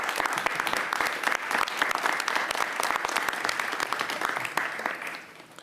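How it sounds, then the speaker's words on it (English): Audience applause at a mayoral announcement on relief for small businesses: dense, steady clapping from a full room that holds for several seconds before thinning out at the end. "Give your neighbor a round of applause."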